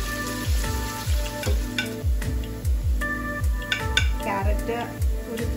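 Carrot pieces dry-frying in a pan for Bukhari rice, with a steady background sizzle broken by repeated close, rhythmic clinks and scrapes of a utensil against the pan.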